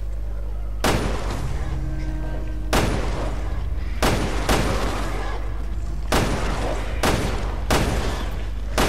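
Several loud pistol gunshots ring out at irregular intervals in Resident Evil Revelations 2, sharp booming bursts with faint background noise between them.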